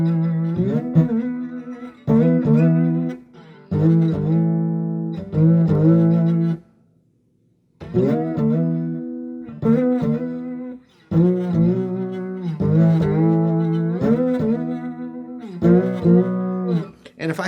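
Slide guitar played over a 12-bar blues through a quiet, uncranked amp, with short phrases of gliding notes and thumb-strummed chords broken by brief pauses, the sliding string sound clearly audible and close.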